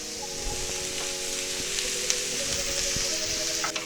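Yellow pepper, celery and zucchini with ground turkey sizzle steadily in a frying pan while being stirred, a constant close hiss with faint scraping clicks throughout.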